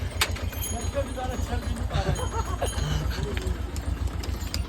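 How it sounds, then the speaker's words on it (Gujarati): A tractor engine chugs on the pilgrimage route to Kedarnath in Uttarakhand, its low, regular pulsing thrum running steadily beneath the sounds of the trail. "ચલો જો ભાઈ કેદારનાથમાં બી ટ્રેક્ટર ચાલે"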